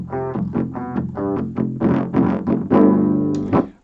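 An 8-string electric guitar with a Seymour Duncan pickup plays a heavy, loose, farty-sounding low riff of repeated chugging notes, loud and close with no voices.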